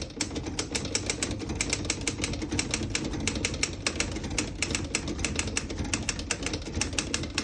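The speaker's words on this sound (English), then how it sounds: "So on this next line, I'm just going to type a sentence." Brisk, steady keystrokes clatter from a 1928 Royal 10 vintage desktop typewriter as a sentence is typed, sharp metallic strikes in a fast even rhythm, close and clear with no talking.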